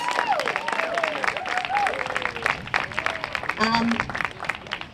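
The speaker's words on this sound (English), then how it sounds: "So if we can give them a round of applause." An audience at a memorial park award ceremony breaks into sustained applause, many hands clapping together while voices murmur and call out through it.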